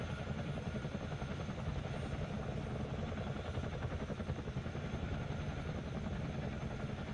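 Chinook CH-47D tandem-rotor helicopter in a flight simulator, a continuous low droning engine and rotor roar with a steady rapid blade chop, constant and unvarying.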